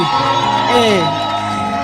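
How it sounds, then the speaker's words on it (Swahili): A church congregation at a live prayer service ululates and cheers, with loud, close, high warbling voices that rise and sweep in pitch for a couple of seconds. "Jamani, vigelegele, mbona mpendi?"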